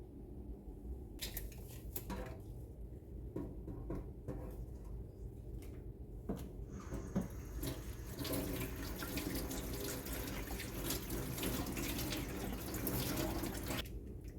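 Tap water runs into a sink as fresh asparagus is rinsed, a steady splashing stream with light clinks and handling noises that grows fuller partway through, close and without speech.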